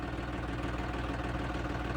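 A 5210 tractor engine idles steadily nearby during wheat sowing, a continuous low chugging drone with a faint rhythmic knock and no voices.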